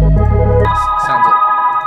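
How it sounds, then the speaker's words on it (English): An Omnisphere synth lead processed with a chorus echo effect plays a dark melody. Deep bass tones drop out after the first half second, leaving bright sustained tones with a wide, spacious shimmer. "it wasn't really echoey, so I added this chorus echo effect"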